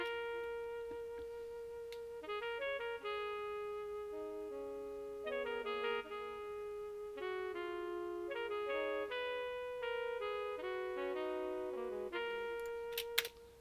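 A soft saxophone melody in a hip-hop type beat wanders through a run of short and held notes, with delay and reverb, fairly quiet and steady, with no talking.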